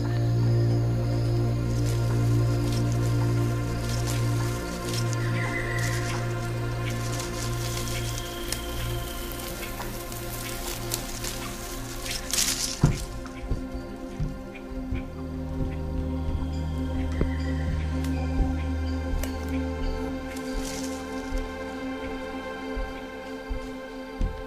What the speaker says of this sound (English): raindrops are deflected and collected by various canopy plants